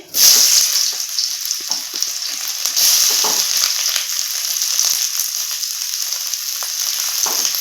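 Chopped onions hitting hot oil in a pan for chowmein, a loud bright sizzle that bursts in at once and keeps crackling steadily close by, with occasional stirring scrapes; no speech.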